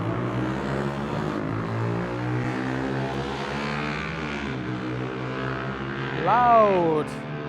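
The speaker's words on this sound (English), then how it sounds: "Loud bikes." Loud motorbike engines drone past on a road, layered rumbling exhaust tones shifting in pitch as they go by, with one bike revving sharply and swelling louder near the end.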